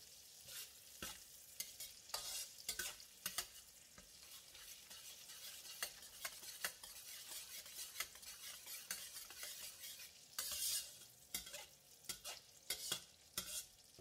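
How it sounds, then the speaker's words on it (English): Curry leaves frying in melted unsalted butter and hot oil for crispy salted egg yolk bitter gourd, a faint crackling sizzle broken by repeated sharp scrapes and taps of a spatula in the pan, no voices. "40 grams of unsalted butter, and all the curry leaves. Stir for about 30 seconds or until the leaves have curled up."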